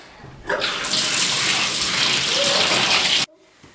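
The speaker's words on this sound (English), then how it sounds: "Okay, I'm going to fill it up with kind of lukewarm water." Lukewarm tap water gushes steadily into a bathtub, a loud continuous rush that starts abruptly, runs for nearly three seconds, then cuts off sharply, leaving only faint room tone.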